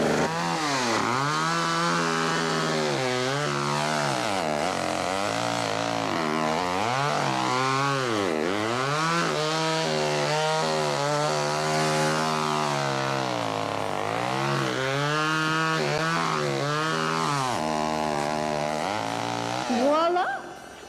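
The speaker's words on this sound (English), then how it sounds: "A chainsaw." Chainsaw revving loud and continuous as it carves a pumpkin, the engine pitch rising and falling in repeated surges for about twenty seconds before cutting off at the end.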